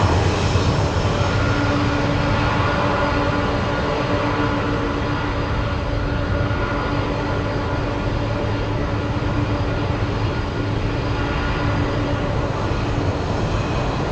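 A departing airliner bound for Louisville, Kentucky drones steadily at Anchorage's Ted Stevens airport, a continuous loud broadband engine roar with faint tonal hums, no voices present.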